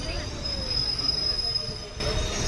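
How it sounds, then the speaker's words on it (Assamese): At Guwahati railway station's platform 2, train wheels give a high, thin metallic squeal that holds steadily over the low rumble of the moving railcars. "ট্ৰেইনটো মানে ষ্টাৰ্ট কৰি দিলে আৰু মই ধুনীয়াকৈ বহি লৈছোঁ ট্ৰেইনত"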